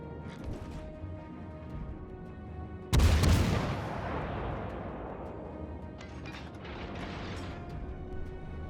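Warship guns firing in the naval combat game World of Warships, a single heavy, booming salvo that erupts suddenly and rolls off into a long rumbling decay over quiet engine and ambient background noise.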